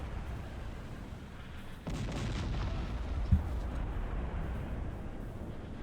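Steady low rumbling battle noise with a single sharp heavy boom partway through, howitzer artillery fire in the strategy game Cossacks 3, with no talking.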